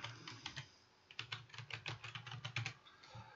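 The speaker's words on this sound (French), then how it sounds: "Alors, je vais encoder mon mot de passe." A password is typed on a computer keyboard, a quick close run of light key clicks in irregular bursts after a brief pause, with no talking.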